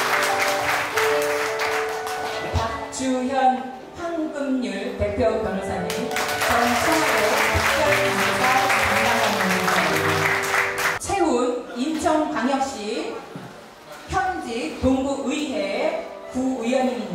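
An audience at a meeting held to welcome invited guests applauds in a broad burst, with music and voices running over and around the clapping.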